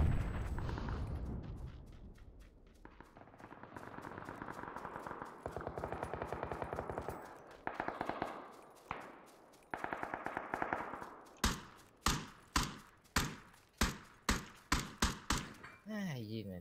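Gunfire in a shooting video game: sustained automatic bursts give way to a string of sharp, evenly spaced single shots near the end, loud and close, with a person talking under it.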